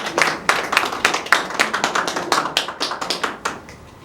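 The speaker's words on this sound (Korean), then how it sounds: "김민지 간호사를 박수로 말, 예, 맞이해 주셨으면 감사하겠습니다" Hospital audience at a quality-improvement contest claps to welcome a nurse to the stage, a steady run of close, sharp hand claps lasting about four seconds with no talking.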